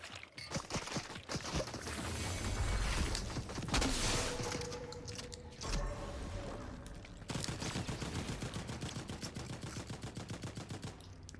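Fortnite gunfire in a duos zero-build match: sustained, rapid bursts of automatic fire with distinct rattling shots, loud and continuous over most of the clip, with short gaps between volleys.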